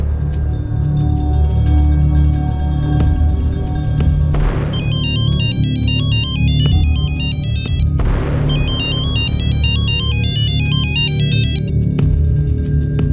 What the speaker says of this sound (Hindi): सलोनी का फोन जरूर इसी लॉज के रूम में बज रहा है।